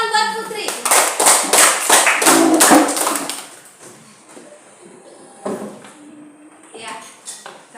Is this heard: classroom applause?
yes